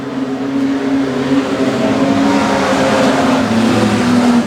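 Street stock race cars roar side by side on a racetrack, engines loud and sustained with steady droning pitch shifting as they jostle for the lead, no talk over the noise.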